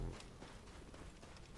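Horse hooves clip-clopping at a steady running pace in the Assassin's Creed Origins video game, a quick continuous patter over a dense game soundscape.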